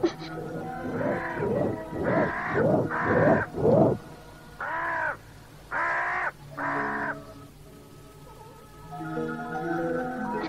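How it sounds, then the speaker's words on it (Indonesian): A crow caws repeatedly overhead, a series of harsh, hoarse calls in two bursts with short pauses between, fairly clear over a quiet outdoor background. "Burung itu masih berputar-putar di atas sana"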